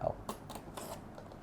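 Scissors snipping through plastic wrap on the underside of a limited Warhammer White Dwarf Grombrindal anniversary book and coin box, a few short crisp cuts close up in a quiet room.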